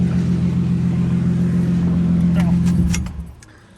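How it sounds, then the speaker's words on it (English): A car engine idles with a steady low hum and then is switched off, the rumble dropping away abruptly near the end with a few small clicks and rattles. "let me turn the car off"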